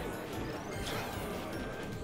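Super Smash Bros. Ultimate match between ROB and Banjo & Kazooie, with a continuous wash of crashing and swishing game effects and crowd noise, dense and loud throughout without distinct separate hits.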